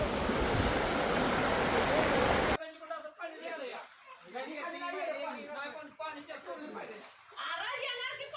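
Heavy rushing floodwater after a downpour in Koregaon roars loudly and steadily for a couple of seconds, then drops to a quieter wash beneath several voices talking.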